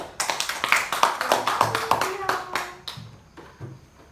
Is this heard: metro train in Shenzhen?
no